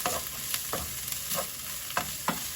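Ground meat, onion and peppers sizzle steadily in a hot pan, with a few scraping stirs breaking through the constant frying hiss.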